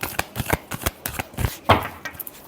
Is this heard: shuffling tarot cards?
yes